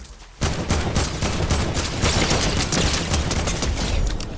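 Fortnite Zero Build solo match gunfire: dense, sustained bursts of rapid shots begin abruptly after a brief quiet start and continue loudly and steadily to the end, with no talk over them.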